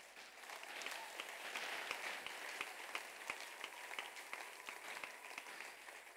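A congregation applauds in continuous, even clapping from start to finish, distant and faint, with individual sharp claps standing out through the steady patter.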